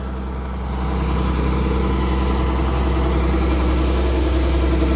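Engine of a DC 108X combine harvester running close by, a loud, steady diesel drone that swells slightly in the first second and then holds constant.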